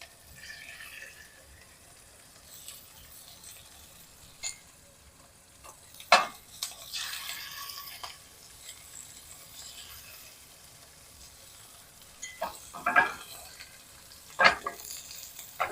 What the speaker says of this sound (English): these are all going face down in the oil